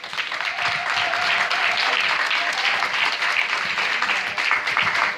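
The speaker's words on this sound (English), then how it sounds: "let's give a round of applause for Call 'em Out" An audience at a dinner gives a dense, sustained round of applause, steady and loud from start to finish with no talk over it.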